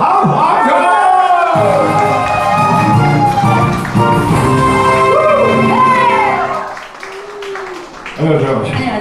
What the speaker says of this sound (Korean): 큰 박수와 함께합니다.